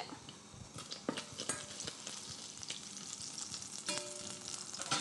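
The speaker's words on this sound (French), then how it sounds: "Alors, notre beurre, il commence à mousser." Butter foams and sizzles in a hot pan with a steady crackling hiss, broken by the scrape and clink of a utensil stirring against the metal, close and without talk.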